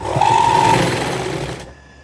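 A sewing machine stitches along a folded coat collar in a loud, close, steady whir. It runs for about a second and a half, then stops abruptly, leaving quiet.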